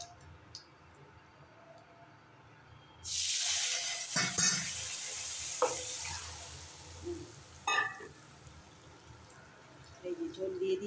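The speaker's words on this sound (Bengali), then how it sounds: "ঝোল ফুটছে।" Fish gravy poured into a hot pan bursts into a loud hissing sizzle after a quiet start, then settles into steady bubbling and spitting, with a few clinks of utensils and faint background talk.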